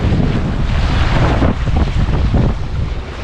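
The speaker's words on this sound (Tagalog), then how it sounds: "Mahangin, mahangin." Strong wind sweeping over a fishing boat at sea makes a loud, steady, blustery roar that fills the whole stretch, with rumbling gusts and no clear voices.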